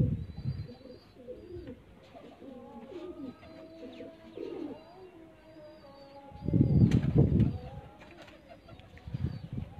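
Pigeons cooing at a loft in Sheikhupura, repeated low throaty coos from several birds nearby, with a louder burst of cooing partway through.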